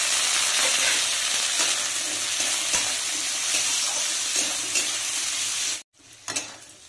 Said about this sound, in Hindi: आदेरे काटी रखिथिबा आलू पकईदबा।